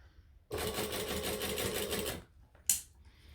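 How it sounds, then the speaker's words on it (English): A sewing machine top stitches along the edge of a clutch bag, running in one steady, fast burst for under two seconds, followed by a brief sharp click. "we're not going to see the top stitching along this top edge because of the frame, but we're still doing it"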